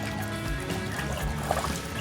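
Rainwater trickles and dribbles across a flooded rooftop, a close, continuous small-scale flow with no voices.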